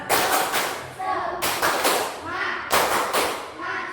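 A school class performs a rhythmic 'tepuk semangat' clapping chant, sharp loud clap bursts in repeating patterns of about three groups, mixed with children's chanting voices.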